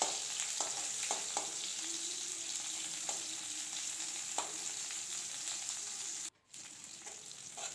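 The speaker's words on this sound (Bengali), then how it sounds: "পেঁয়াজ আর কাঁচা লঙ্কাটা ভালো করে ভেজে নেব" Chopped onion and green chilli fry in a pan for a cabbage dish, giving a steady, close sizzle with occasional soft stirring clicks and a brief dropout near the end.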